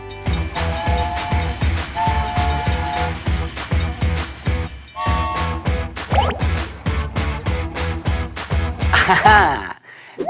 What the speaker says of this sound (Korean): 자 그럼 호기심 열차 출발